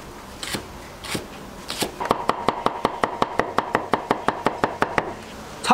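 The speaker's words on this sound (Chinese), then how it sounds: "准备好配料：米食三件套、葱姜蒜，切成你们想要的形状" A kitchen knife chops scallion, ginger and garlic on a board: a few spaced cuts, then a steady run of quick, evenly timed knocks, close and crisp with no talk.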